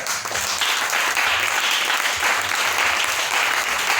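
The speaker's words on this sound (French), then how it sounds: "On acclame le Seigneur" A church congregation bursts into sustained applause and clapping to acclaim the Lord, loud and steady throughout with a dense wash of hands and no clear speech.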